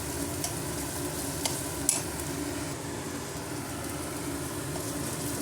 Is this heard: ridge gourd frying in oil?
yes